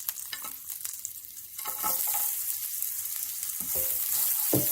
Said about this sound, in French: Dans la même poêle, on rajoute une autre cuillère à soupe d'huile. On met nos échalotes.